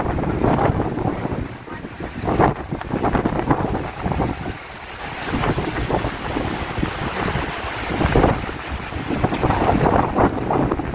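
Strong wind gusts buffet the microphone in loud, rumbling surges at Mount Nebo, Jordan, with rushing water and waves churning underneath throughout.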